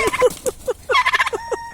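A turkey gobbles amid a rooster fight, with several loud, close, harmonic fowl calls in quick bursts, some crowing-like, without talk.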